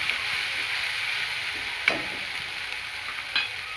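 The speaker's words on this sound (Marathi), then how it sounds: "आता छान आपला मसाला तेलामध्ये फ्राय करून घ्यायचा आहे." Spice masala frying in hot oil, a steady sizzling hiss broken by a couple of soft stirring scrapes, close and continuous with no talking.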